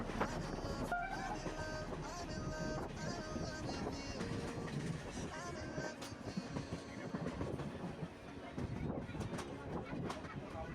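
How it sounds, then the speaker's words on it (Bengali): A passenger train rolls on just after leaving Murshidabad station, its continuous rumble carrying rhythmic clickety-clack wheel beats and rattling carriage noise, with faint voices murmuring inside the coach. "মুর্শিদাবাদ স্টেশন ছাড়লো, আমি এখন ট্রেনে আছি।"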